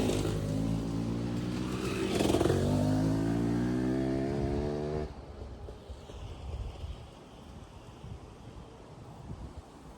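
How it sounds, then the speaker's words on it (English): Motorbikes coming down a narrow walking path near the Medway Megaliths, engines droning loud and close with a rising pitch before falling away abruptly, leaving wind noise. "I did not expect motorbikes to be coming down here"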